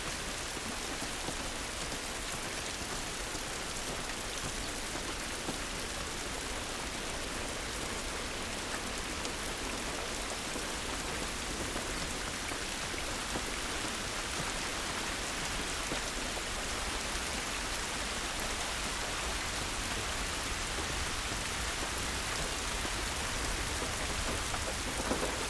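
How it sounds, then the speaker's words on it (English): Steady heavy rain falls outdoors in The Last of Us, a dense continuous hiss with distant thunder rumbling underneath and no voices throughout. "This rain ain't gonna do us any good."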